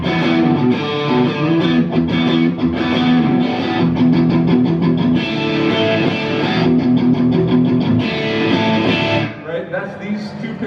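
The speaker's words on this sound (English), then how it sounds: "That's these two pickups together, humbucking" Loud, distorted electric guitar with both pickups combined as a humbucker plays a thick, driving riff of steady chords and notes, with a brief change in tone near the end.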